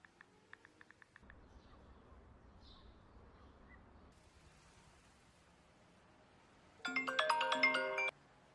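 A short electronic mobile phone ringtone melody plays loudly near the end of a Hindi-dubbed film scene, after faint chirps at the start and a stretch of quiet rustling background.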